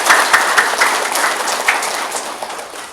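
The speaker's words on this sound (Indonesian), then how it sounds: "Mari kita beri tepuk tangan." Crowd applause at a NasDem party inauguration and consolidation event in Merauke, a dense burst of clapping that starts loud and slowly thins out over a few seconds.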